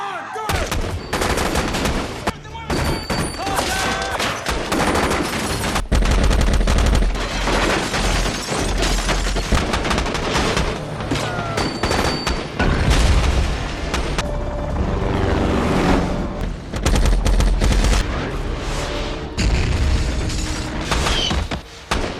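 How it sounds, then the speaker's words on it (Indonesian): A firefight from the film Act of Valor, with Navy SEALs trading fire with locals in a Mexican settlement: dense, loud bursts of automatic gunfire and heavy booms filling the scene almost continuously. "Tim Letnan Rock sempat baku tembak dengan warga lokal."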